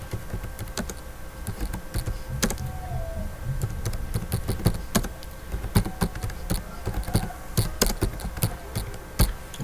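Fast, steady typing on a computer keyboard as text is entered in Notepad: dense, close key clatter with irregular louder strokes running throughout, no voices.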